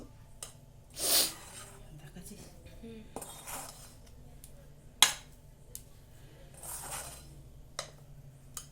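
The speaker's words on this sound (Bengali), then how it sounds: "এবার কড়াইয়ের মধ্যে এটাকে আর একটু ভালো করে নাড়াচাড়া করে নেব" A pea and rice flour mixture is stirred in a wok taken off the heat, with sparse metallic scrapes and clinks of a utensil against the pan between quiet pauses.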